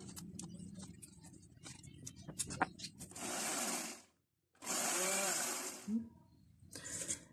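Yogurt blended with powdered sugar in an electric blender, two loud sustained whirring bursts of about a second each, separated by a short silence, following a stretch of quieter clattering and tapping.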